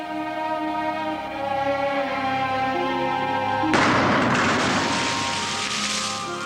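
Explosives detonate in an artist's implosion piece: a steady tonal drone gives way to a sudden loud burst of broadband noise that rumbles and crackles for several seconds.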